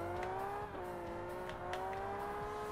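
A race car's engine in Forza Motorsport 1 revs hard in first gear, a steady, close, whining drone that rises in pitch, dips briefly at a shift, then climbs again, with no voices over it.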